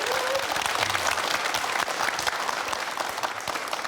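A studio audience at a televised town-hall broadcast in Boseong, South Jeolla, applauds, dense continuous clapping filling the whole moment at a steady, loud level.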